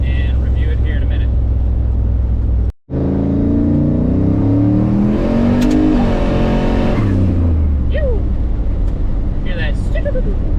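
Car engine under a Holley Terminator X EFI data log pull, revving hard and climbing loudly in pitch, then easing off as the revs fall, with a voice talking over parts of it.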